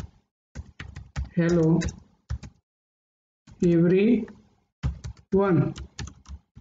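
Computer keyboard typing in quick clattering bursts of keystrokes, heard between and under a speaking voice close by.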